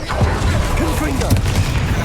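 Confringo fire spell explosions in the video game Hogwarts Legacy, loud booming blasts layered with a stylized magical whoosh over constant battle noise, with a voice shouting during the fight.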